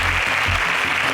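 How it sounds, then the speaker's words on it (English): Applause from a studio audience greeting contestants at a national agricultural science quiz show, steady and dense across the short moment, with low musical tones underneath. "A round of applause for them."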